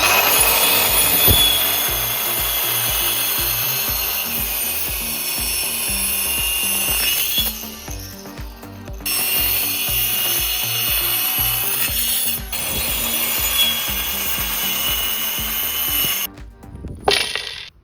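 Wooden pieces being sawn for a homemade glass bottle cutter, a steady rasping, rhythmic cutting that runs close and loud throughout, with brief pauses and a few knocks near the end.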